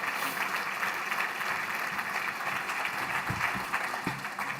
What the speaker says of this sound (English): Nice round of applause for our panel,